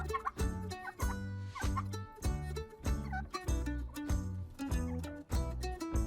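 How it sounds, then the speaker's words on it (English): A turkey gobbles repeatedly in loud, rapid, warbling bursts, each call rising and falling in a rhythmic series, close and clear with no talking. "A turkey. I see a turkey. I see 3 turkeys."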